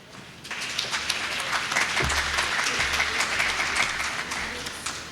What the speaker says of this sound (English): may I ask that side to continue clapping?